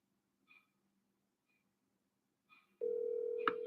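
Faint electronic tones and clicks, then a loud steady ringback-style tone begins and holds to the end, with a sharp click partway through.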